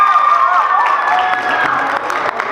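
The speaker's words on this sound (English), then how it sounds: "Round of applause to that." An audience breaks into applause and cheering, a loud, dense wash of clapping with some whoops that carries steadily throughout, close and full.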